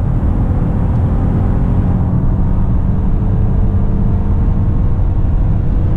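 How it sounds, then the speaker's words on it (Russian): Audi A8L engine at full throttle, a steady, restrained low rumble heard from inside the cabin at highway speed, muffled and continuous with no voices over it. "сдержанно злое звучание мотора"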